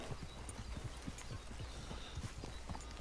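Steady clip-clop of a white horse's hooves trotting along at a quick, even pace in Red Dead Redemption 2, fairly close and continuous.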